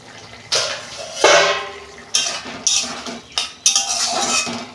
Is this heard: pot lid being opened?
yes